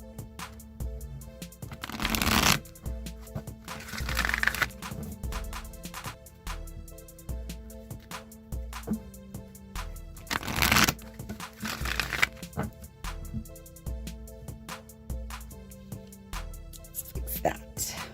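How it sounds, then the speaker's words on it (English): Oracle card deck shuffled by hand in several bursts of riffling and sliding cards, close and fairly loud, with quiet pauses between the shuffles. "I'm going to shuffle the wisdom of the Oracle deck now"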